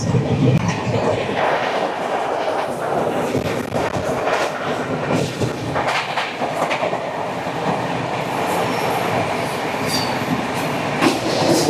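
The Capital Express, train 13245, rushes past close by, a loud sustained roar of wheels with rhythmic clickety-clack and rattling carriages throughout.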